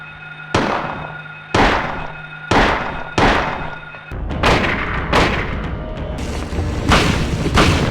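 Heavy booming gunshots from the video game Silent Hill fire one after another, about once a second, each with a long echoing decay, then a denser run of overlapping blasts.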